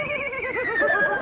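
A person imitates a horse's neigh at a comedy show talent contest, a wavering whinny that rises and trembles for about a second, fairly loud and close.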